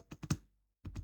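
Digits are typed on a computer keyboard, a quick run of a few close, soft key taps, a short pause, then another brief burst of taps.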